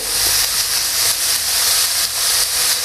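Lamb skewers sear in a hot cast iron pan over high heat, producing a loud, continuous hissing sizzle with slight pulsing surges.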